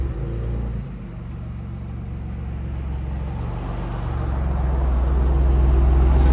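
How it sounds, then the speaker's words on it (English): A 2019 Ford Raptor with a 3.5L twin-turbo V6 and Borla Attack mufflers gives a deep, steady exhaust rumble that dips briefly, then swells gradually louder toward the end. "Ford Raptor with 2 BORLA attack mufflers."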